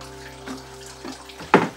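Engine coolant pours from a GMC truck with a 6.0 LS into a drain pan, a close trickling, splashing liquid stream over a steady low hum, ending in a louder splash.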